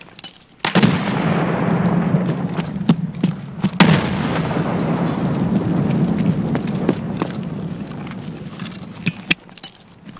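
Grenade blasts in the video game Escape From Tarkov, a loud close explosion followed by another heavy boom and scattered sharp impacts, with a long rumbling tail in between.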